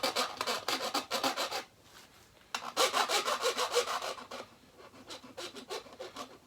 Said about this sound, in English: The file will start digging into the wood.